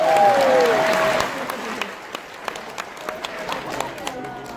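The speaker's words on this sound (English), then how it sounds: "Can we just clap for that money from here?" Audience applause at the Uganda Sizzle Rally in Crowne Plaza, a crowd clapping loudly at first with a voice over it, then thinning to scattered claps that fade out.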